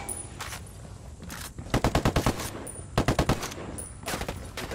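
Machine gun fire in the video game Ghost Recon Wildlands: two sharp bursts of rapid automatic shots, each about half a second long, over continuous combat noise, with lighter scattered gunfire between them.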